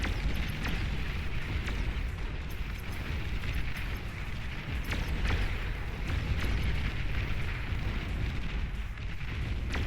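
Dense, continuous booming and crackling explosions from D-gun commander shots and battle fire in the strategy game Beyond All Reason, loud and sustained throughout with rumbling low end.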